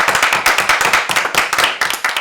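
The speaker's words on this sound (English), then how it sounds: "Can we round of applause for it?" A group of people applauds after a school presentation at XP School, a dense, steady round of clapping hands that stays loud and continuous throughout.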